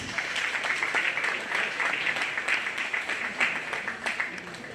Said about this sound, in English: So go ahead and give these young ladies a big round of applause